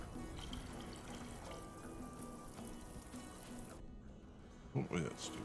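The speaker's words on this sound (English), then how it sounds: "I'll fill up our water" Water pouring and trickling into a container in the video game Mirage 7 at a desert oasis, a steady liquid wash under game music and a voice talking.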